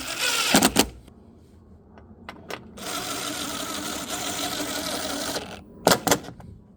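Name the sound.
bolting down Bronco speaker cover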